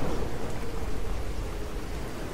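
Rainy, stormy weather in Fallout 4 at a lakeside lumber mill settlement: dense, continuous rain hiss with a low rumble underneath, loud and alone.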